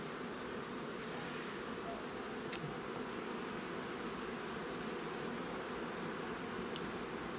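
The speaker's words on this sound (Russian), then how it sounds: "Да, пчелы мельтешатся, куда-то спешат." A steady, faint insect buzz hums throughout, like many bees flying around at a distance, with no voices.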